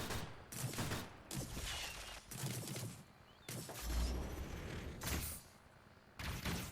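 Flak cannon fire in a video game, heard as a series of about six loud, booming bursts of rapid gunfire separated by short gaps, with no talking.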